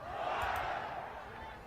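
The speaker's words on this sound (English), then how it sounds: "the crowd is giving him a lot of shit" Wrestling arena crowd jeering and booing a wrestler, a loud, sustained wash of many voices from a large audience with no clear individual words.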